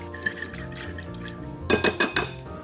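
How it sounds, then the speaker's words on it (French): Clinking and scraping of a utensil against a bowl while honey and sesame oil are mixed, light taps at first, then a burst of louder rhythmic knocks near the end, with no talking. "On mélange bien."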